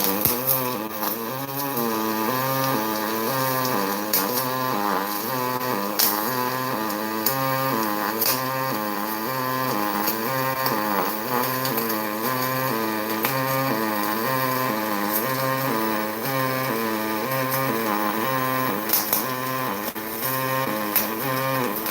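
Pulsed welding at a raised high-pulse setting during a shredder build gives a loud, continuous buzz with a steady rhythmic throb that lasts throughout, with no speech.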